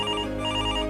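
A telephone rings with a steady, continuous electronic bell tone, loud and close, sounding alone without any voices.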